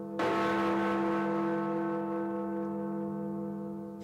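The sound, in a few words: large clock tower bell striking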